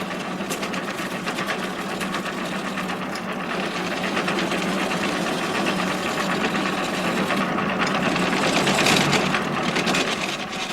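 A wood lathe turns a delicate wooden spindle for a carriage, a steady dense whirring hum with a scraping texture, running continuously at close range without speech.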